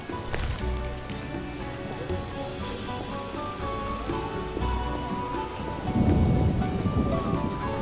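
Steady heavy rain in The Witcher video game pours continuously with low rumbling swells, like a storm, growing denser toward the end, with no clear speech.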